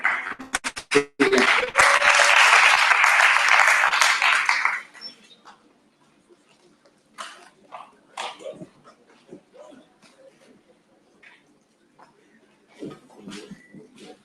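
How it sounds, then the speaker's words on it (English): Audience applause at a student congress general assembly, loud dense clapping for about four seconds that cuts off sharply, followed by a quiet room with scattered sounds. "Please, an applause for Amila."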